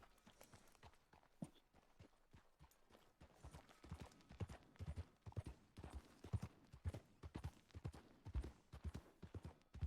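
Hungarian half-bred horse hooves clip-clop in a video game, a steady rhythmic walking beat that grows louder and more distinct, heard alone without talk.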